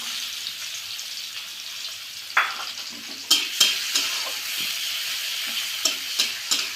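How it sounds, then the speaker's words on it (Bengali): Chopped onion dropped into hot oil left over from frying okra, with a steady close sizzle that rises as the onion goes in, followed by several sharp scraping stirs of a spatula, with no voices. "আমি ঢ্যাঁড়স ভাজা তেলটার ভিতরে এখন কিছু পেঁয়াজ কুচি দিয়ে দেবো"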